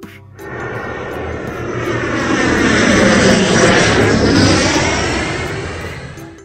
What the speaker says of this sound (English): Plane. Pesawat terbang.